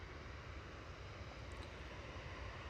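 A Ryanair Boeing 737-800 jet departing Manchester Airport, a steady broad engine roar holding loud and constant throughout, with no voices over it.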